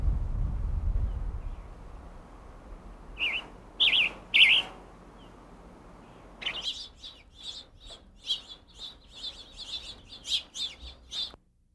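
Wild birds sing in the Chiricahua Mountains, with a few loud bursts of chirping followed by a run of quick, repeated tweets and calls. The calls stand alone over a low, rumbling background.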